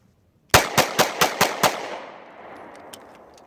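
A Taurus PT111 G2 pistol fires six quick, evenly spaced shots at a shooting range, each crack loud and close, followed by a fading echo and a few faint metallic clinks.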